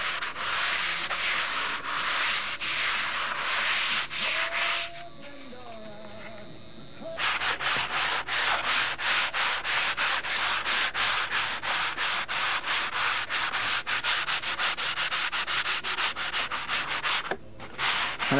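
Steady rasping of sandpaper rubbed back and forth in quick, even strokes, close up, with a brief pause partway through before the scrubbing resumes.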